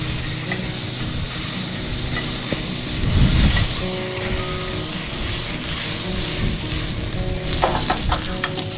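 Onions and mixed vegetables seasoned with garlic powder, mesquite seasoning, salt and pepper sizzle steadily in a pan at a riverside campsite, with bursts of scraping stirring and a clatter of utensils near the end.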